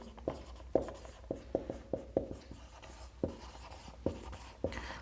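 A pen scratches across paper in short, separate strokes, a quiet, uneven series of light scrapes and taps with no talking.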